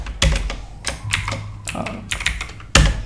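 Quick bursts of computer keyboard typing while coding CSS for a responsive portfolio website, close and fairly loud, in irregular clusters of keystrokes with short pauses between them.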